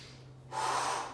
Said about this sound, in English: Exhale as you lift. Breathe in.